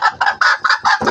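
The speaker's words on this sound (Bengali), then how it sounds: "একটি মুরগির বাচ্চা এনেছি" A newly bought chicken chick clucking and cheeping loudly and close by, in five or six quick bursts with short gaps between them and no other sound.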